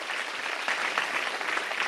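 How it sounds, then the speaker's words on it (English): Audience applause at a panel event on development and populism, a steady dense wash of many hands clapping that sustains evenly throughout without voices. "I think they deserve a round of applause"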